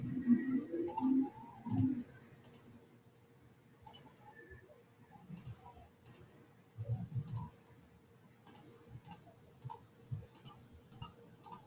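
Computer mouse clicks while working with the polygon lasso tool in image-editing software, a series of sharp, close, quiet clicks in irregular bursts, some in quick doubles, with faint rustling and low handling noise between them.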